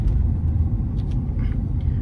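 A 2023 Ford F-350 with the 6.7 Power Stroke diesel accelerates while towing a 28-foot Featherlite trailer, giving a deep, steady engine rumble heard up close for a couple of seconds.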